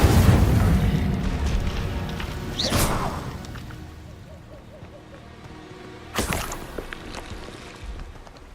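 A fire spell cast in the Hogwarts Legacy video game bursts in a loud rumbling boom at the start, then a second sharp whooshing blast near the end, with a fainter crackle and low hum in between.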